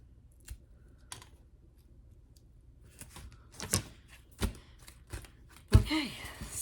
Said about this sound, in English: Trim a little piece of this off.